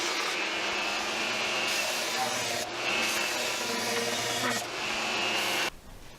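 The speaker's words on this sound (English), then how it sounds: "take it over to the belt sander to bring it down to the line" Belt sander grinding wood for a blanket ladder runs as a loud, steady whine, dipping twice as the piece is shifted, then cutting off abruptly near the end.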